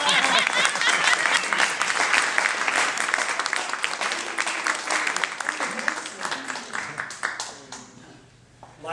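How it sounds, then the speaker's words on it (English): Audience applause for celebrity panelists at an awards showcase: a dense, steady wash of many hands clapping with some voices mixed in, holding strong before thinning and fading near the end. "applaud for everybody except Simon"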